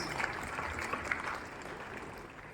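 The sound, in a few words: audience clapping at school ceremony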